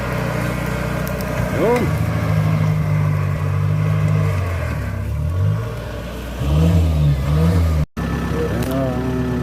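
A Kubota harvesting machine's engine runs loudly during the rice harvest, revving and dipping with changing load, while people talk over the steady drone.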